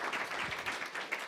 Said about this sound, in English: let's give a nice round of applause for Professor Li Yao and Dr.